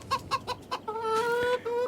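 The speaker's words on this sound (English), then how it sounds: "We already have some chickens here." Several short clucks from chickens in the Farming Simulator 22 video game in quick succession, then a longer drawn-out cackling call, close and clear.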